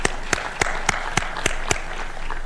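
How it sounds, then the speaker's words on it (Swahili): An audience at a presidential briefing on the EU-Kenya Economic Partnership Agreement claps in a steady rhythm, about seven sharp, evenly spaced claps over a soft background hum. "Tuwapigie makofi jameni."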